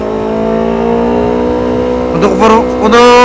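A Yamaha MT-25 motorcycle with an aftermarket R9 exhaust idles with a steady low drone, then revs sharply twice in quick succession, loud and close, with a raspy, throaty exhaust note.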